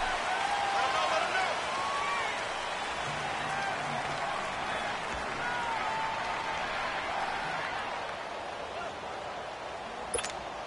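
Crowd noise from a PS4 American football video game, a broad, continuous stadium roar holding steady throughout at moderate level, with a brief click near the end.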